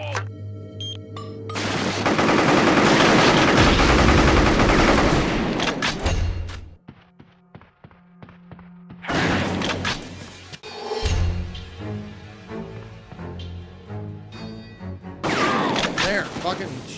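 Grenade blast and bursts of gunfire in the video game Psi-Ops: The Mindgate Conspiracy, a long loud roaring explosion followed by a quieter gap, then more heavy crackling shots and booms, with voices talking over the game sounds.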